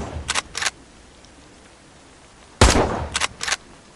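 Rifle shots in a hunting video game ring out in two clusters, a pair of sharp cracks early on, then a louder blast followed by quick follow-up reports, with quiet gaps between.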